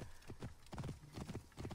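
Horse hooves clip-clopping at a steady gallop in the video game Assassin's Creed Origins, several rhythmic bursts of close, punchy footfalls with a brief whinny-like tone.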